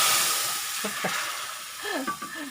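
Hot oil sizzles loudly in an iron wok, a constant hissing crackle as water hits it, with a voice speaking briefly over it.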